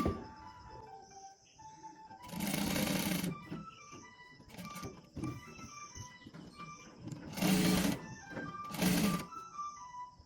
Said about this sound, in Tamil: இனி நான் கழுத்து தைக்க போகிறேன்